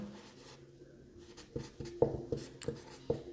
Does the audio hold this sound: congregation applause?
no